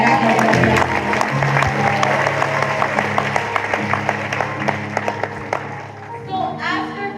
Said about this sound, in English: Can we give a clap of praise to Jesus?